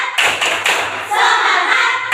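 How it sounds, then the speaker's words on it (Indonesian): A primary school class claps a rhythmic 'tepuk semangat' cheer, with a few loud, distinct bursts of hand clapping and thumps close by in a classroom. "Yuk, tepuk semangat."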